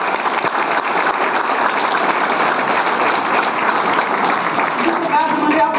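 An audience at a Hindi-language business motivational seminar applauds with a steady, dense clapping wash that holds evenly throughout, with a hint of voices near the end.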